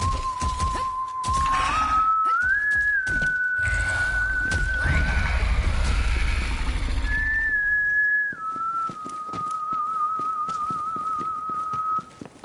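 A character whistling a melodic tune in the Borderlands 3 video game, clear sustained notes with pitch steps, with horse whinnying and snorting mixed in the background and a brief pause midway.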